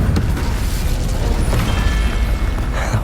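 A fiery Incendio spell blast in a Hogwarts Legacy combat fight lands as a loud, dense burst of booming energy, sustained throughout with crackling impacts and a brief whooshing flare near the end.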